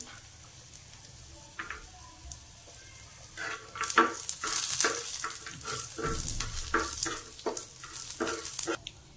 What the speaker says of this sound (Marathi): खोबरं पण भाजून घेऊया आपण